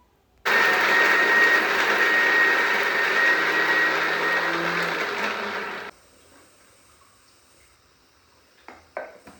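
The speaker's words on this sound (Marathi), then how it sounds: "नंतर हे सगळं वाटण मी मिक्सरमधून बारीक करून घेतलं." A kitchen mixer grinder blends a spice paste with garlic, its loud, steady motor whine running for about five seconds before cutting off, followed by quiet and a few light clinks near the end.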